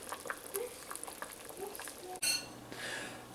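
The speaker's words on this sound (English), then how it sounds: "this has been boiling now for 10 minutes" Citrus peels boiling in a pot of water, a soft bubbling simmer with light clinks of pot and utensils, faint and close, before a brief louder pouring rush.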